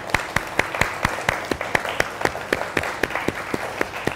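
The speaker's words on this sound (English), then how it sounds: "can we give them a round of applause" Audience applause for three models at a bridal fashion preview, a steady crowd of claps with a few louder close hand claps ringing out in a regular rhythm above the wash.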